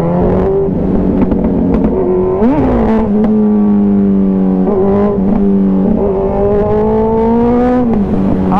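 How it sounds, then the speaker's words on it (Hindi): Two Kawasaki Z900 motorcycles race side by side on a street, engines droning loud and steady with repeated revs rising and falling, and sharp exhaust crackles and backfire pops breaking through the roar. "ये देखो फुल क्रैकलिंग साउंड चल रही है गाइस।"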